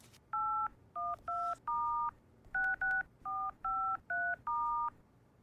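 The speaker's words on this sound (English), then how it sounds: "Mimi, can you help me make a phone call?" A phone number is dialed: a rapid series of about a dozen touch-tone beeps, crisp and close, in two quick bursts with a short pause between.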